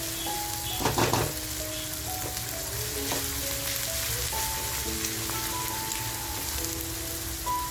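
Onion frying in a pan for a Malvani crab thali, a soft steady sizzle with light crackles and stirring, faint and continuous under some background tones.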